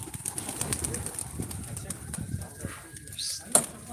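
A runaway pigeon lands among a flock, its wings flapping near the end, against a background of cooing and rustling birds close by, with someone speaking Turkish over it.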